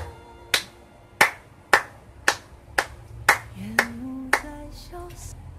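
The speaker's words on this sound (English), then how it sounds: "I would just like to give him a round of applause" A single person claps slowly, about eight sharp, separate claps spaced roughly half a second apart, close and distinct, with a faint tonal hum and a brief rising voice-like tone partway through.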